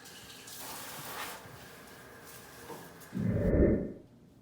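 Tap water gushes briefly near the end to moisten peat moss and soil for stratifying chestnut seeds, a loud close splash lasting about a second after quieter handling noises.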